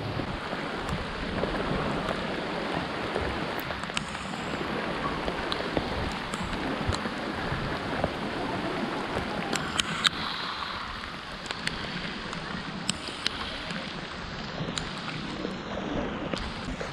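Steady rain falls on the Loboc River in Bohol, a continuous close hiss of drops on water with faint wind buffeting and no voices.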